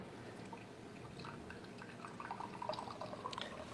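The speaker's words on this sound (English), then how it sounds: "pour the liquid" Margarita pours and splashes softly from a blender into a container, quiet and close, with a few drips toward the end.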